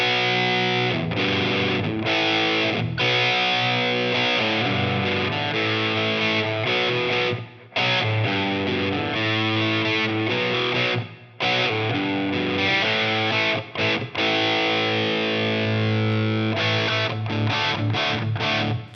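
An electric guitar plays through an amp modeler with a boost pedal pushing it into breakup, giving loud, gritty distorted chords and notes that ring out with a few brief pauses and no voices.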